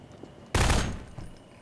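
A single loud burst of gunfire in the Garry's Mod Prop Hunt game, a sharp close blast with a short rough tail fading over about half a second, then a fainter echo.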